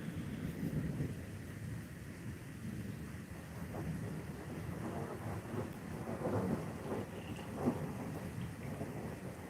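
A thunderstorm in the mountains above Sydney, with steady rain and low rumbling thunder rolling in the distance, fairly faint and continuous, several soft booms rising near the end.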